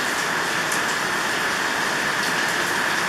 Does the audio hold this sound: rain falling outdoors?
yes